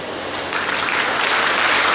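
A graduation ceremony audience at a medical college claps in a dense, continuous wash of many hands. It starts moderate and grows a little louder and fuller toward the end, with no speech over it.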